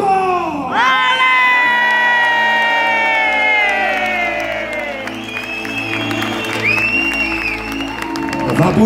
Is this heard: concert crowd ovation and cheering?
yes